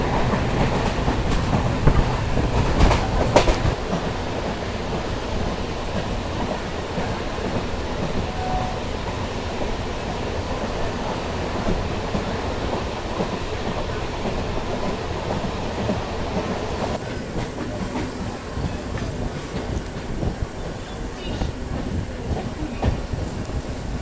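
A local passenger train on the Shantipur–Krishnanagar line rumbles steadily along the tracks, wheels clattering rhythmically as it pulls away from Bathna Krittibas station and keeps running, loud and continuous throughout.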